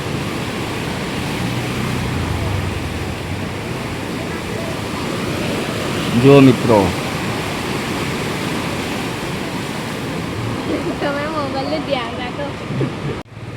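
A constant roar of rushing floodwater fills the scene, loud and broad, with a voice briefly speaking over it.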